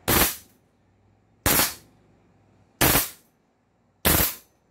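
A blowback toy rifle firing four sharp, loud shots at an even interval of a bit over a second, each a crisp bursting crack with a quick decay and quiet in between.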